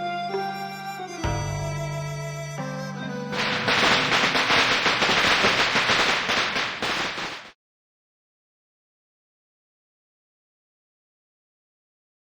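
Firecrackers going off in the Reverse: 1999 game, a dense crackling burst of pops over musical tones that builds for several seconds, then cuts off abruptly to silence.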